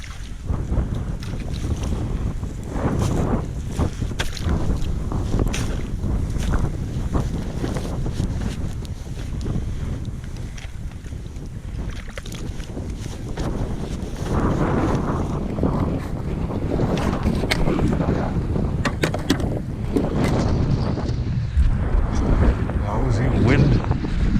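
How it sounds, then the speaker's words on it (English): Strong wind gusts buffet the microphone outdoors on a trail, a loud continuous roar with rumbling bursts throughout and voices faintly mixed in. "Wind."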